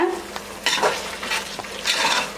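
A spoon stirs fresh mint into chicken biryani masala frying in a pan, with close scraping strokes over a soft, steady sizzle and no speech.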